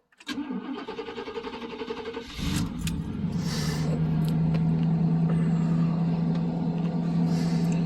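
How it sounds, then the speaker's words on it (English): A Buick station wagon engine cold-starting on a chilly morning: a brief starter crank, then the engine catches and settles into a steady, loud, close idle with a low hum that continues to the end. "real cold start this morning"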